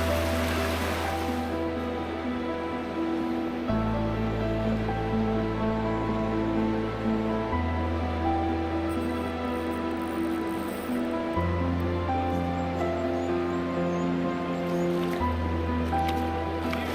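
A New Zealand river flows above rapids with a steady broadband rush of water, continuous and even, mixed under sustained tonal music for the whole stretch.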